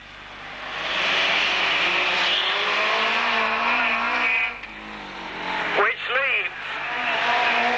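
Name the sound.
race cars at a 30-lap auto club race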